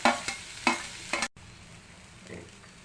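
Onions and curry leaves frying in a pan for samosa filling, with a steady sizzle broken by a few stirring scrapes early on before the frying settles to a quieter, even hiss.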